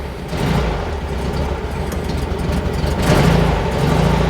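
A 1966 UK right-hand-drive Volkswagen Karmann Ghia engine starts and settles into a steady idle, a loud continuous rumble that swells slightly near the end, with no talking.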